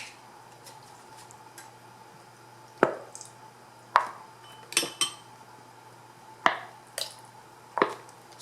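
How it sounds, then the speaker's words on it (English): Ketchup squeezed onto a tablespoon of pounded garlic, giving a series of wet squishy splats and clicks spaced a second or so apart over quiet room hum, close by, with no speech. "We're going to add some ketchup."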